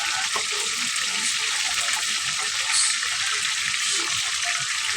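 Fish fries in hot oil in a pan, a dense, steady crackling sizzle, close and moderately loud throughout, with no clear talking.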